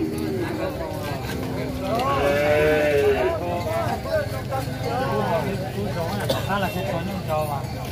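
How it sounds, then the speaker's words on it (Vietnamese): Cattle lowing at a large, crowded cattle and buffalo market in Ha Giang, Vietnam: several drawn-out calls rise over a constant crowd babble and general market noise. "bên cạnh đó còn có tiếng bò nữa thì thật sự rất là ồn ào"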